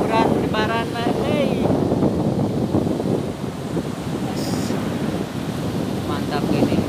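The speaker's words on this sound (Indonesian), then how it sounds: "Ombaknya besar." Large ocean waves roar steadily on a beach in southern Garut, mixed with heavy wind buffeting the microphone, while a person talks briefly over the surf.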